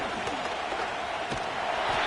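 Stadium crowd noise in the Madden 25 football video game ahead of a big third down, a constant loud wash of cheering fans with faint thuds and a slight swell toward the end.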